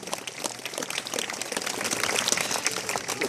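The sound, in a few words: audience applauding at a bird show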